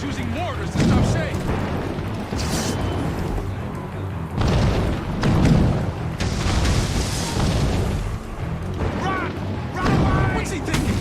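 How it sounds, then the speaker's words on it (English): Mortar fire from Assassin's Creed Rogue thunders in repeated heavy booms and blasts over a noisy battle scene, loud and close, with voices talking over the explosions. "Chevalier is using mortars to stop Shay."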